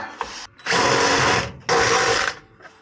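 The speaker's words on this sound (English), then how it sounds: "So let's get some holes drilled." A power drill bores holes into an RV tow rig's brand-new motor, heard up close as two sustained whirring runs of about a second each, separated by a short pause.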